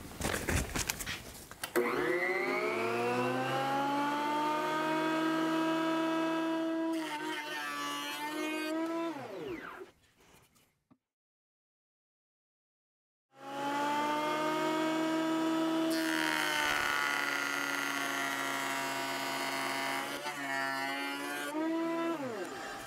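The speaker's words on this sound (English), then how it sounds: "We're gonna make a few passes through the joiner, and then I'll show you kind of what it looks like as it cuts." A cheap benchtop jointer makes two passes planing soft wood. Each pass is a loud, close, high-pitched whirring roar that winds down, with a brief silence between them.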